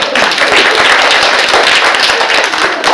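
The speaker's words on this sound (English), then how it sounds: "Everybody give them a big round of applause." An audience at a live animal talk show breaks into applause: a dense, steady wash of many hands clapping that holds at full strength for about three seconds, with no voices over it.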